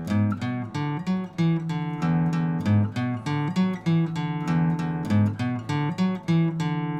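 Electric-style guitar picking a song riff in a simpler two-finger fingering, a clear repeating pattern of plucked single notes played alone at moderate volume.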